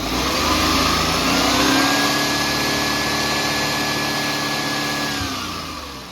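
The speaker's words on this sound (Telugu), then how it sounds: "ఇప్పుడు గేజ్ పుల్లను ఓపెన్ చేస్తా, యాక్సిలరేటర్ ఇస్తా" A 2008 Maruti 800 car engine revs up and holds a steady high pitch for several seconds before dropping back, loud and close with no one talking.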